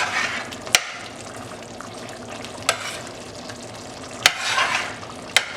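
Beef bhuna curry bubbling and sizzling steadily in an uncovered pot over high heat, a constant close simmer broken by a few sharp knocks or clicks.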